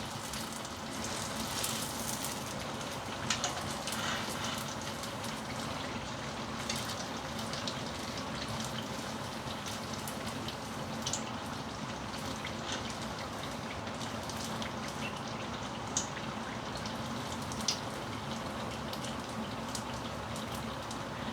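Achappam rose cookies fry in hot oil, a dense continuous sizzle and crackle like steady rain, even and close throughout with occasional sharper pops and no talking.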